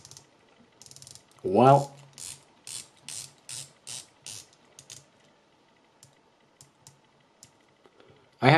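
A rotating bezel on an Audaz Sea Armour 200m dive watch is turned in short bursts of crisp ratcheting clicks, close and quiet, with a brief spoken word near the start.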